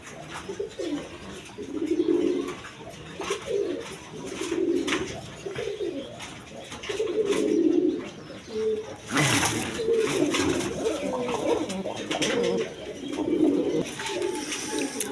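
Iranian pigeons, a male and female pair kept for sale, coo in repeated low rounded bursts close by, with a loud rustle or flap partway through and no talk.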